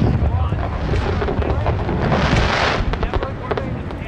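Fireworks go off in Hitman (2016) as a dense rolling crackle of bursts, loud and continuous, swelling into a brighter, hissing cluster midway, with a voice talking over it.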